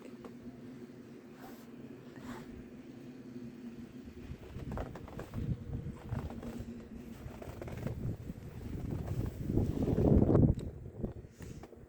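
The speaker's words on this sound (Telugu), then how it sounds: "గాలి చూడు ఎలా ఉందో, ఎత్తిపోస్తుంది అసలు ఫుల్గా." Strong wind roars in gusts during a snowstorm in Canada, low and rushing, building to a louder blast near the end before easing off.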